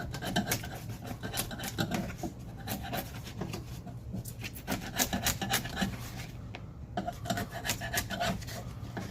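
A scraper is worked over old weather stripping adhesive on a Nissan Titan truck door, giving a steady run of close, gritty rasping strokes that repeat quickly and evenly for the whole stretch, with no talking.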